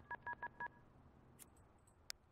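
Telephone being dialed in the video game The Sims 2: four quick, evenly spaced keypad beeps, then quiet with a faint click and a short high blip.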